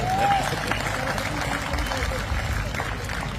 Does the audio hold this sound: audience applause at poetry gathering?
yes